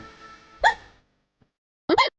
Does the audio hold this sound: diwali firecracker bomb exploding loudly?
no